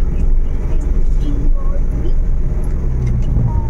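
A Suzuki DA64W with a 660cc three-cylinder engine drones steadily as it climbs uphill, a low engine rumble heard from inside the cabin while someone talks over it.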